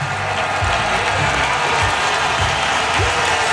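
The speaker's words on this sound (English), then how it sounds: "The standing ovation down here is absolutely spectacular" Roaring standing ovation from a large stadium crowd at Yankee Stadium after a perfect game, a loud continuous wash of clapping and cheering with low rumble beneath and no break.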